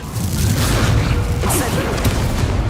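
Levioso levitation spell cast in Hogwarts Legacy, heard as a dense magical whoosh with a low booming rumble and a brief bright burst midway, continuous and loud.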